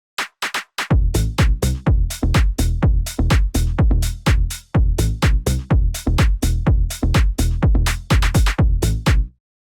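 Layered mid bass and bass locked with a drum beat, sidechained to the kick so each note ducks and swells in a pumping rhythm, loud, punchy and continuous with one brief gap.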